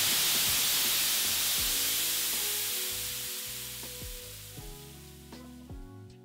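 Compressed air blasts through a homemade supersonic converging nozzle in a garage as a loud, broad hiss that slowly fades, with a string of tonal whistles and squeals emerging underneath as the flow dies down.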